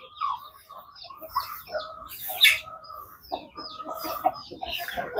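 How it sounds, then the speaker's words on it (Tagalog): Chickens cluck and chirp while feeding, a run of close, busy fowl calls with brief squawks scattered across the stretch and no voices over them. "Manok na kumakain na lang."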